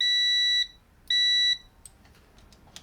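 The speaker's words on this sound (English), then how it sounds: "I know that meter's working, it's beeping" Two loud, steady electronic beeps from a multimeter's continuity test on the control wiring of an old Colchester lathe, each about half a second long, separated by a short gap, with quiet room noise after.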